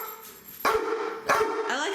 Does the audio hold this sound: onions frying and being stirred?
no